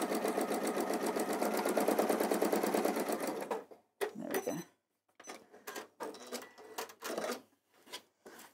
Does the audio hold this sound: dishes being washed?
no